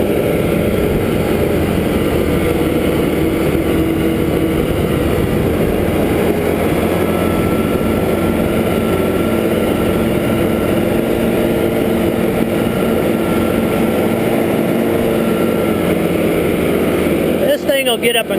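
A Farmall 120 tractor engine runs at about 2,000 RPM on foot throttle, a loud, close, steady mechanical drone that holds constant throughout, with a brief rattle near the end.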